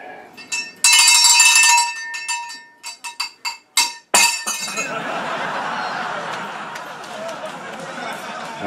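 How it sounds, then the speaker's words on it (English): A small metal bell rings in a magic trick, its bright clinking chimes coming in a burst and then several separate strikes before a wash of rustling background noise takes over. "I had the bell behind here."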